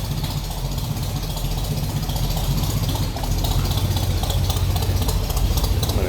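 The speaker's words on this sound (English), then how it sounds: "A little rumble out of the dual exhaust." A 1962 Chevrolet C10 stepside pickup with a 350 V8 idles steadily, its deep rumble flowing through dual exhaust at close range, loud and continuous with no talking.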